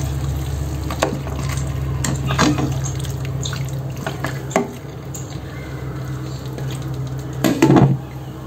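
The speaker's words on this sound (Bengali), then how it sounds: "এই যে মাংসটাকে এবার আমি একটু নাড়া দিয়ে নেব এই মশলার সাথে।" Meat stirred with spices in a pan, giving intermittent scrapes, clinks and soft wet shuffling over a steady low hum, with no talking.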